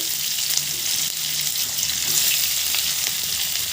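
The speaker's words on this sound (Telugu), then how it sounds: "ఆనియన్స్ కొంచెం కలర్ మారే వరకు బాగా వేగనివ్వండి" Onions sizzle in hot oil with mustard seeds, a close, steady frying hiss with light crackles and faint stirring for a few seconds, no voices.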